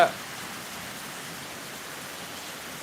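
Heavy rain pours steadily as a dense, even hiss, loud and continuous from start to finish with a brief louder burst at the very beginning and no other sounds standing out.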